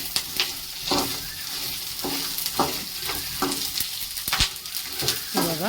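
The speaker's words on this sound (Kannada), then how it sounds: "2 ಸ್ಪೂನ್ ಸಾಸಿವೆ ಹಾಕೊಂಡಿದ್ದೀನಿ, ಅದನ್ನು ಸಾಸಿವೆ ಚಟಪಟ ಚೆನ್ನಾಗಿ ಕುಡಿಬೇಕು." Mustard seeds splutter and pop in hot oil over a medium flame, sharp crackling bursts scattered irregularly over a steady sizzle, close and fairly loud, with no voices.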